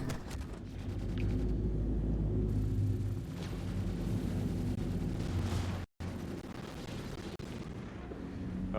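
In the space game Star Citizen, incoming missiles hit, setting off heavy, loud, rumbling explosions that roll continuously for several seconds, then cut out briefly before further blasts and crackling bursts follow.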